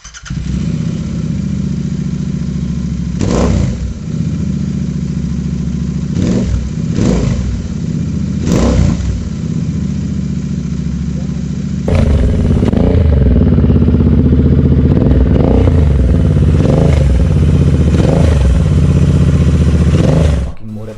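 A Royal Enfield Continental GT650 with an aftermarket exhaust runs loud and close, blipping the throttle in several sharp revs, then settling into a deeper, louder rumbling idle with more revs.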